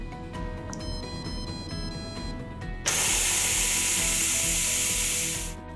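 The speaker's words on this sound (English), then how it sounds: "Now we'll hit cancel and manually release the pressure." A Deluxe Multi Cooker is switched to manual pressure release partway through, and a loud, close, continuous steam hiss bursts out and keeps going to the end after a quieter stretch of background tones.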